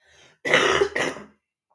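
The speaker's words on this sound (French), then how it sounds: "Je te prie de m'excuser pour la toux." A single person gives a short, rough throat-clearing cough in a quiet room. A faint low rasp comes first, then two close, harsh bursts, loud and near, followed by silence.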